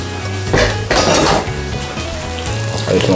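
Squid tempura frying in a pan, a steady sizzle beneath a couple of sharp metallic clanks of utensils against the pan.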